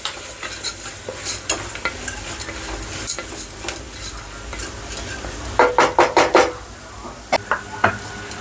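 Spices with a pinch of turmeric and chili powder frying in a pan for dal khichdi, a steady sizzle broken by repeated spoon scrapes and clinks against the pan, including a quick cluster of stirring knocks near the end.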